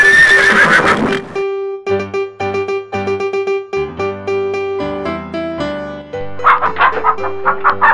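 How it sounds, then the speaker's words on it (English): A loud horse whinny opens, followed by a spaced series of tonal musical notes, then another shrill neigh rises near the end. "Horse."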